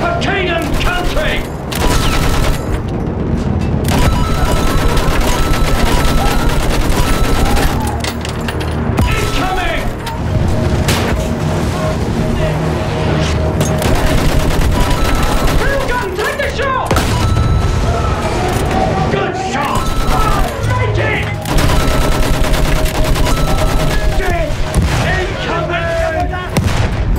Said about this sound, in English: Use that machine gun! Pull them down!